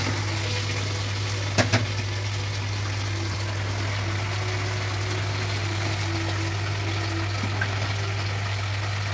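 Liquid pouring steadily into a pot of vegetarian khichuri, a continuous soft trickling stream under a low steady hum, with a brief clatter near the start.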